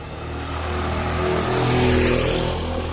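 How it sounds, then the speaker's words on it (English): Cars pass along a road in Negril, Jamaica, with a steady engine drone that rises and swells toward the middle as vehicles drive by close, then eases slightly; no talking. "cars still driving by"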